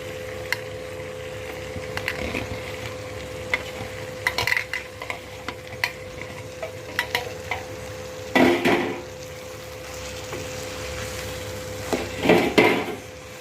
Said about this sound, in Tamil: இப்போ இந்த மாதிரி நல்லா பீட்ரூட்டை கலக்கி விட்டுறணும்